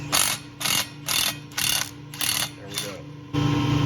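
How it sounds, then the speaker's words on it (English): An impact wrench hammers at a seized coupler on a rusty hot water pump in repeated short bursts of rattling, ratcheting blows, about seven rapid pulses, close and loud, ending in a longer sustained run. "put the impact on it, because that'll be a lot easier"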